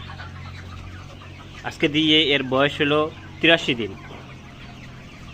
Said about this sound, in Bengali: এটা হচ্ছে 3000-এর একটা লেয়ার মুরগির ব্যাচ